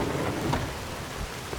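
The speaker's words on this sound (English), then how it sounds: "it started raining, which made things a lot harder." Heavy rain roars steadily with a low rumble of thunder, loud and close throughout, on a day when fired Mario Kart shells were being launched off a car.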